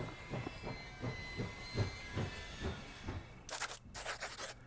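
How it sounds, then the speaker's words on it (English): A train in the video game Last Train Home slows into a small station on a winter evening in Siberia: steady rumbling hiss with regular clacking beats that fade, followed by bursts of released steam. "The train stops at the station"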